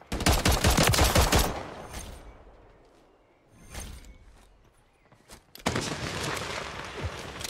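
Gunfire from Call of Duty: Modern Warfare III, Season 6, in a multiplayer match: dense, loud automatic bursts open the clip, a shorter burst follows mid-way, and a sustained close volley of shots ends it.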